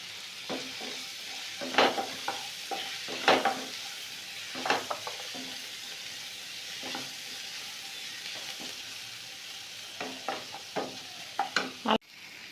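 Vermicelli sizzles gently in a pan while a utensil stirs and scrapes against the metal in irregular bursts, close by and with no voices.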